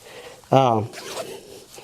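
A zipper on a pocket of First Lite hunting camo pants is pulled in one quick, loud rasp lasting about a third of a second, close up, with quiet room tone before and after.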